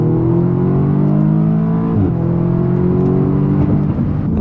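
An Audi S3 accelerates on a road, heard from inside as a steady engine drone rising in pitch, briefly dipping at a gear change, then climbing again, loud and continuous.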